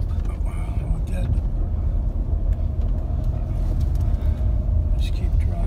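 A car drives over rough off-road terrain, a steady loud low rumble of engine and bumping with scattered knocks throughout, while people talk over it inside the vehicle.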